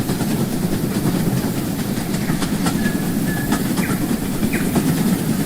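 An excursion train rolls steadily along the track in the Rolling Line model railway game, a continuous loud rumble with rhythmic clickety-clack of wheels over rail joints and a few faint squeals throughout.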